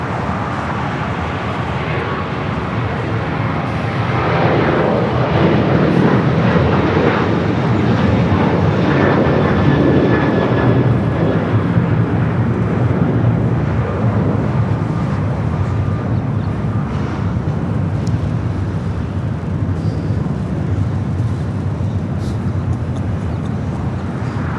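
Boeing 737-800 airliner on a flight to Chicago O'Hare at LAX, a loud, continuous jet roar that builds slightly early on and holds steady throughout with no talk.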